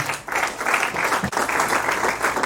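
A church congregation applauding, dense sustained clapping from many hands filling the space, with one short dip before it swells again.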